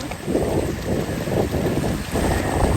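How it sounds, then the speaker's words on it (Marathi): Wind blows hard and steadily across the microphone, a continuous rushing roar that swells and eases in gusts, with no one speaking. "आता वारा सुटला"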